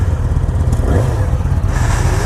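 A 2020 Yamaha R6 sport bike engine runs loud and close, a steady throbbing growl with rising revs, alone with no voices.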